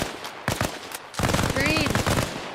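Bursts of gunfire in the military video game Arma Reforger crack out in short rapid volleys, mixed with a spoken voice over the shooting.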